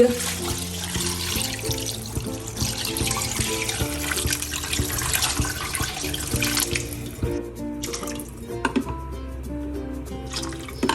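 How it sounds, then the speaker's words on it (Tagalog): Water runs steadily from a tap into a cooking pot of carrots and chayote, a continuous splashing fill heard over background music, tapering off toward the end. "Lalagay na rin po ako ng tubig."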